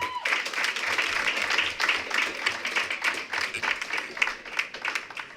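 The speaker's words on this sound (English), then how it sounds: "Let's give them a round of applause before they come up." Applause at a school board of education meeting honoring a girls track relay team, a steady dense clapping that fills the room for several seconds at moderate distance, with no talk over it.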